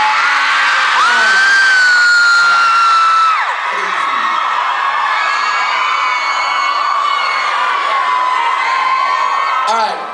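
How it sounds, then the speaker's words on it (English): A packed Toronto Opera House crowd at a fan meet-up screams and cheers in one sustained, loud roar with high shrill whoops, easing slightly after a few seconds but staying intense throughout. "just get your last screams out right now,"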